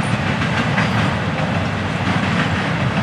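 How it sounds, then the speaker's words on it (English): A freight train with old Sealand container cars rolls steadily past a house front door on restricted speed, a loud continuous rumble with rail clatter and no pauses. "Shooting this train right here from my front door."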